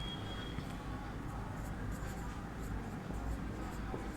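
Someone writes on a board with a faint, continuous scratching and tapping, heard close but quietly over a steady background hiss.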